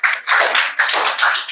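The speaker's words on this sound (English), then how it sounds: "give a big round of applause for him" An audience applauds a speech contest participant at a school semi-final event, with loud, dense bursts of clapping that swell and ease in three waves with no voices over them.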